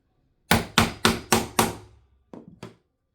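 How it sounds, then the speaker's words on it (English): Hammer whacking a tool into a hole in a craft project, five quick, sharp, close blows in a steady rhythm, a short pause, then two lighter taps, with no voices. "And then I'm going to whack it a few times with a hammer."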